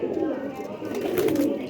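Pigeons coo in a low, continuous murmur close by, with someone talking over the birds throughout.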